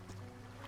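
Fishing boat engine from the video game Dredge, a steady low droning hum with a constant throb, moderately loud and continuous, with soft water-like wash above it and no talking.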